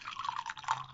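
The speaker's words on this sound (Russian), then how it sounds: "Так, наливаем." Tea poured from a pot into a cup at home, a short soft liquid stream trickling close and quiet, with no talk over it.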